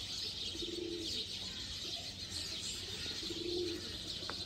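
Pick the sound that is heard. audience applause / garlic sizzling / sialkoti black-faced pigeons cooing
sialkoti black-faced pigeons cooing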